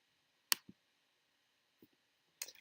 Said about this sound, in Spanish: Clic aquí en reiniciar.